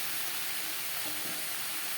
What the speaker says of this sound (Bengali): আলুর সাথে বেগুন বেশ ভালো করে কষিয়ে নেওয়া হয়ে গেছে